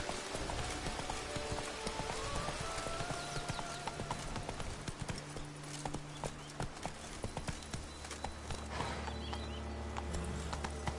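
Horse galloping in The Witcher 3 video game, a fast steady drumming of hooves with light background game sounds, close and continuous, with faint speech at times.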